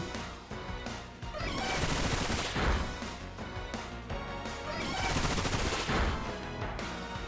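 A rapid volley of Bullet Seed shots in the video game Pokemon Violet, dense, loud staccato bursts that run continuously, swelling and fading in two waves.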